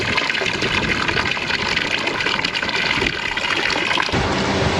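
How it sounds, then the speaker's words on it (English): A boat's bilge pump pumps water out of the hull, giving a steady, loud, continuous gushing and splashing that runs without pause. "Bilge pump's still going, but we've got the bungs in. Got most of the water out."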